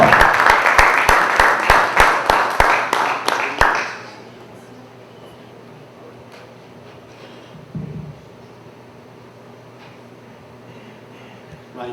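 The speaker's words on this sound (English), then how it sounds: "There's a round of applause." A brief round of applause at a 1 Million Cups gathering, with several sharp, rhythmic claps standing out over crowd clapping for about four seconds, then near quiet with a faint thump.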